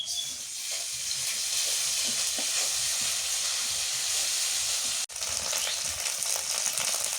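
Papaya and fish fry in hot oil in a village kitchen, a loud, steady close sizzle and hiss that runs without a break apart from one brief dip, with no voices.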